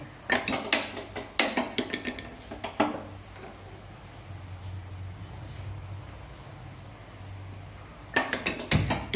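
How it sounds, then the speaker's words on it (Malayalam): A pressure cooker is set down on a stove, with several clattering metallic clanks of cookware at the start and again near the end, separated by a quieter stretch of low hum. "അപ്പോൾ നമ്മളൊരു കുക്കർ അടുപ്പത്ത് വെച്ചു"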